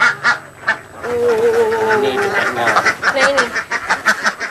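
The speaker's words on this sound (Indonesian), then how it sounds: "Bebek Rambon." Rambon ducks quack and honk loudly and close by in a dense, overlapping chorus, with a short spoken phrase at the start.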